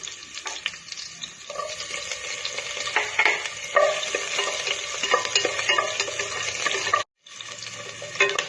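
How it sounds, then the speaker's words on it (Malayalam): Garlic and ginger sizzle in hot coconut oil in a pan, a steady crackling fry with scraping stirs over it that stops briefly near the end before resuming. "വെളിച്ചെണ്ണ ചൂടായി വെളുത്തുള്ളി ഇട്ട് കൊടുക്കാം."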